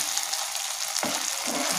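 Tomato sauce and a little chili sauce are stirred into a paneer butter masala gravy in a pan, giving a steady sizzling hiss with a scraping stir partway through.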